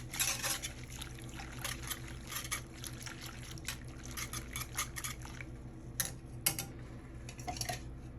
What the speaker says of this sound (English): and we're stirring more, and we're stirring more, and we're stirring more